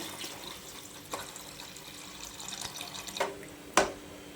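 Water runs and splashes steadily into a cooking pot of rice, with a few sharper clinks and splashes near the end.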